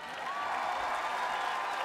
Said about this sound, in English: si vous pouvez faire un grand applaudissement pour maman